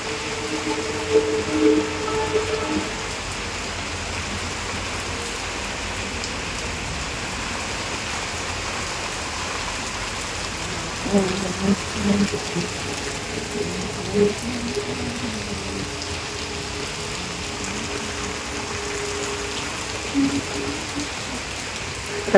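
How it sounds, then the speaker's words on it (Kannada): Heavy afternoon rain pours over a village during a thunderstorm, a dense steady hiss with occasional nearby knocks and clatters, continuous throughout and free of talk. "ಫುಲ್ ಮಳೆ ಮಳೆ ಮಳೆ."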